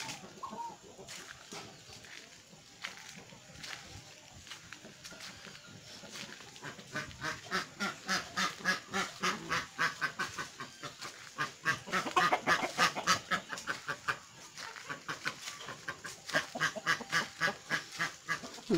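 Chickens on a rural Brazilian smallholding cluck and cackle in busy, overlapping bursts, growing louder and more rhythmic as the flock carries on close by.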